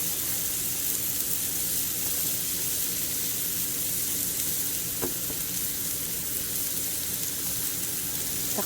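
Hamburger ingredients frying in a pan at a backyard barbecue, giving a continuous loud sizzle with a faint clink or two, no one speaking.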